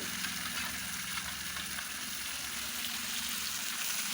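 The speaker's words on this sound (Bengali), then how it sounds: "এখন আমি আমাদের মাছগুলো একটু ভাজা ভাজা করে নেবো" Sea fish (amude and saiting) frying in a pan gives a dense, steady sizzle that holds loud and unbroken throughout, with no talk over it.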